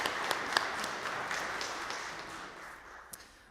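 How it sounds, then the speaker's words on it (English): A congregation claps at a multigenerational Christmas Eve church service, a fairly soft, scattered round of applause that fades gradually over a few seconds. "can we just give a big round of applause and thank you to all of them"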